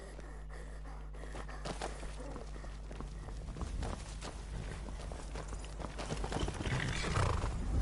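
Horses in the video game Skyrim clop along at a walk and neigh, faint at first and then growing louder and busier against a low game ambience.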